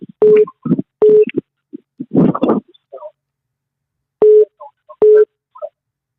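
Telephone dialing a caller live on a radio show: short touch-tone beeps in separated pairs with a brief rumble between them, clear and close, with no talk.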